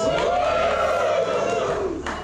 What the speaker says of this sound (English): The crowd loved that and was really hooting and hollering for who was going to win the Mickey Thompsons